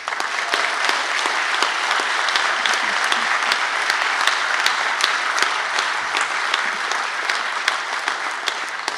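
A large audience at a political debate on independence gives a sustained, loud round of applause, dense crowd clapping that holds steady from start to finish with scattered sharper claps standing out.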